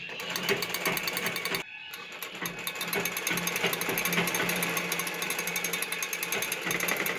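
A sewing machine stitching a seam on a semi-stitched lehenga, running continuously with a fast rhythmic mechanical chatter, close and steady apart from one brief pause.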